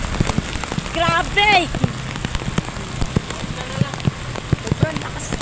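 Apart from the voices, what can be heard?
heavy rain falling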